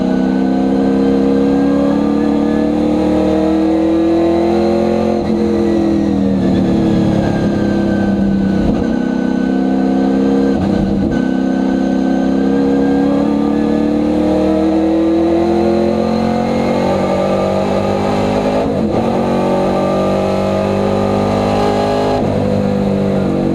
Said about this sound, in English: nice return from Eric van der Merwe in that Porsche